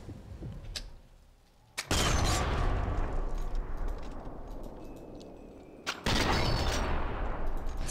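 Gunfire in the Sniper Elite 4 video game: two loud, sharp shot blasts with long rumbling decays, the second arriving several seconds after the first, with no speech.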